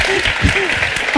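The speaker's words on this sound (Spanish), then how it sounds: "Por favor, un fuerte aplauso." Applause from an audience at a book launch for the novel Antihéroes, a steady broadband clatter of clapping mixed with voices talking over it, loud and close throughout.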